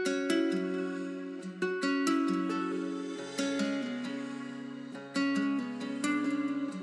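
Layered, heavily processed ambient guitar sample built in FL Studio, with sustained plucked chords shifting every second or so over a low bass note that drops in halfway, steady and moderately loud with no voices.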